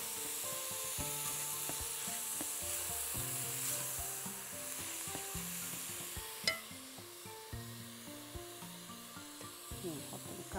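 A sauce simmering and sizzling steadily in a pan, a continuous soft bubbling hiss with a few scraping knocks, likely from stirring, over a low, tonal background.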